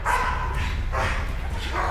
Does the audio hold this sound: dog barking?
yes